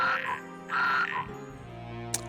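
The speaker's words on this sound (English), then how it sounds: "You hear bizarre croaking from behind you" Frogs croaking in the video game Etrian Odyssey Untold 2, two loud, raspy croaking bursts close by, followed by a lower drone and a brief sharp click near the end.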